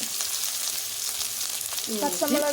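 Onion, curry leaves and green chilli fry with mustard seeds and urad dal for rava upma, a bright continuous sizzle close up, with a voice starting to speak over it near the end.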